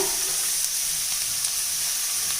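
Steady, dense sizzling of onion, carrot and beans frying in a hot pan, continuous and even with no voices.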